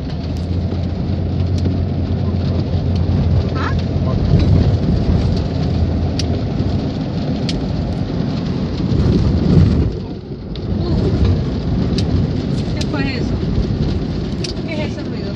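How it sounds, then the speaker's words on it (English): Heavy rain pours steadily and loudly across the whole stretch with low rumbles of thunder beneath it, easing briefly before returning at full strength; a vehicle may pass nearby. "How horrible it is to be in the rain."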